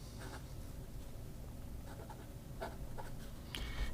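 A fountain pen with a 14 karat fine nib scratches faintly across paper in soft, intermittent strokes, quiet and close.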